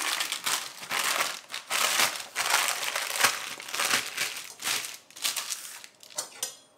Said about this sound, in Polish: Odrywamy papier.